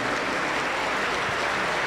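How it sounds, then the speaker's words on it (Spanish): A Pentecostal church congregation applauds, a dense, steady wash of many hands clapping at even loudness throughout the short span. "Un aplauso para el Señor Jesús."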